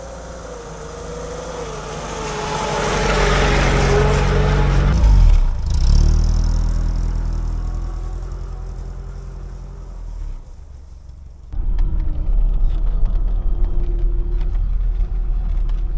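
Lada Niva transfer case humming while driving, a steady mid-low drone under engine and road noise that rises and swells, drops briefly near eleven seconds, then returns loud and continuous.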